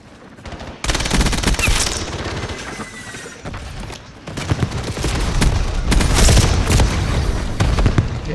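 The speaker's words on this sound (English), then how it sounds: "they're shooting from the house" Dense, rapid bursts of automatic gunfire in a Black Ops 7 match on the Nuketown map come loud and close, broken by a brief lull before heavier sustained firing resumes.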